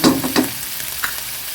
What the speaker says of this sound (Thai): พริกเผากระเด็นใส่ด้วยนะคะทุกคน